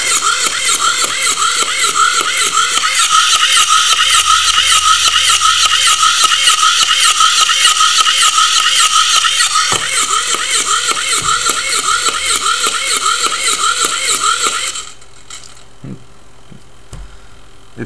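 A hobby servo motor's gears whir and grind steadily with a ratcheting mechanical buzz, loud and close, running continuously for about fifteen seconds before cutting off to near quiet.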